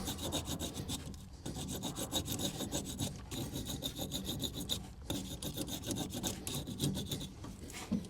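Terminal on an old truck battery, from a 60-year-old International 6x6 army dump truck, being rubbed clean with steady raspy back-and-forth scrubbing strokes, close and continuous with brief pauses, no talking.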